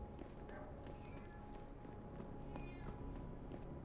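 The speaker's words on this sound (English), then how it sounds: "I hear a meow." A cat meowing in Deus Ex: Human Revolution, a few faint short meows over a low, steady ambient background, with light thuds like footsteps.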